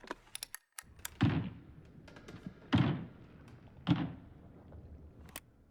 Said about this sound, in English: we hear them banging from inside of the closet